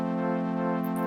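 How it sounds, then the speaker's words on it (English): Polyphonic virtual-analog synthesizer in Soundation holding a steady multi-oscillator tone, dense buzzy stacked harmonics sustained without break, alone and fairly loud. "So poly basically creates like a multiple oscillation sound like this."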